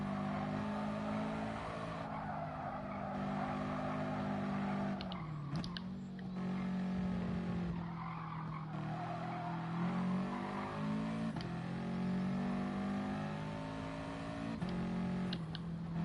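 Race car engine in the GT Sport video game, revving hard and climbing through gears with repeated rises and drops in pitch, a continuous loud drone with brief dips at each shift.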